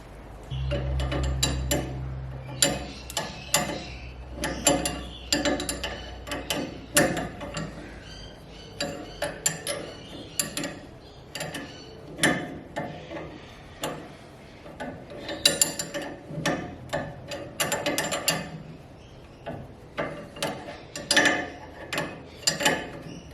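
A ratchet tightens the nut on a Ford Ranger sway bar link, with repeated bursts of clicking and clattering metal strokes up close, separated by short pauses and occasional tool knocks.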